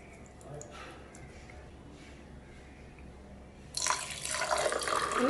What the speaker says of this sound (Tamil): இன்னும் தேவையான அளவுக்கு தண்ணி சேர்த்துக்கலாம்